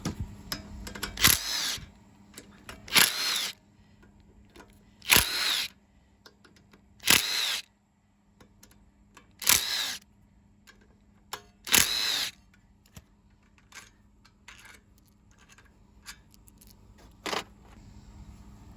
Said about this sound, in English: now there are 6 side cover bolts we're going to take off